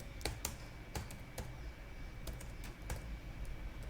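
Irregular clicks of a computer keyboard as code is typed, crisp individual keystrokes in small clusters with pauses, close and moderately loud, no talk.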